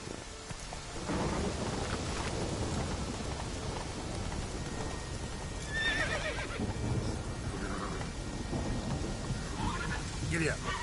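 Roach, a horse in The Witcher 3 video game, gallops amid rain and thunder, with hoofbeats under a neighing whinny and a stormy rumble, while a voice speaks over it.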